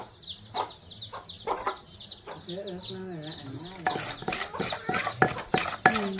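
Chickens cluck and squawk in a series of repeated calls, close and fairly loud, with voices talking in the background.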